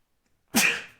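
One sharp sneeze bursts out close after near silence and fades over half a second.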